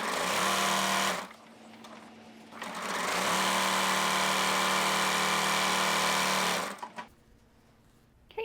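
Sewing machine stitching down a seam on a reversible table runner: a rapid, loud mechanical chatter in two runs, a short burst, a pause, then a longer stretch before stopping.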